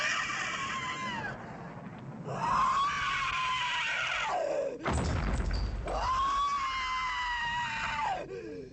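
A woman screams repeatedly from an attic in the horror film The Unnamable, long loud wailing cries broken by a brief crashing thud midway.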